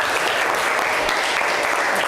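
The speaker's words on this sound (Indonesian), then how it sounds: "tepuk tangan untuk semua." Steady applause from a classroom group following student presentations during a teaching practicum session, dense continuous clapping throughout with no speech.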